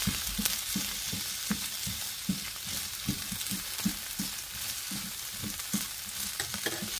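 Cold, hard cooked rice is stir-fried with kimchi in a hot pan for kimchi fried rice, a spoon or spatula scraping and pressing in a steady rhythm over a constant close sizzle.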